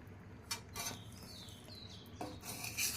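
A spoon stirs crisp khasta khurma in a pan off the heat as the thickening coating clings. Soft, intermittent scraping and rubbing strokes sound close but faint.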